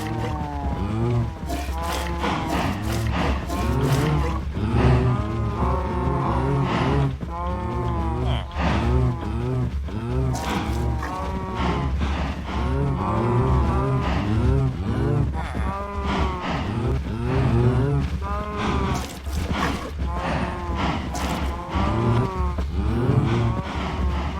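Cows in Minecraft give repeated blocky, pitched moos over a steady low background hum, calling again and again at close range throughout with no talk.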